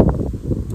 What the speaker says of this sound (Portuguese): Deixa eu ver se vai parar, tá ventando bastante.